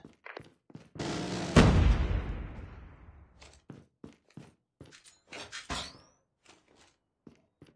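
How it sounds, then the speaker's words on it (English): Sentry gun in Call of Duty Mobile: one heavy blast with a long decaying boom, then scattered sharp, quieter shots and clatters in irregular bursts across the scene. "Sentry gun deployed"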